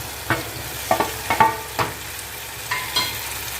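Tomatoes sizzling in a pan for a drumstick fenugreek curry, with a few scraping stirs of a spatula, close and moderately loud, with no talking.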